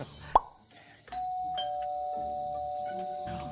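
After a sharp click, a doorbell sounds with a sustained electronic chime tone that holds steady for a couple of seconds.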